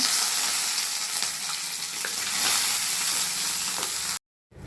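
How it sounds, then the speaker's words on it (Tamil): Curry leaves with two green chillies and two dried red chillies frying in hot oil alongside peanuts, making a loud, dense crackling sizzle that runs steadily before cutting off abruptly into silence. "கருவேப்பிலை கொஞ்சமாக போட்டுக்கலாங்க பச்சை மிளகா ரெண்டு வரமிளகா ரெண்டு போட்டுக்கிறேங்க"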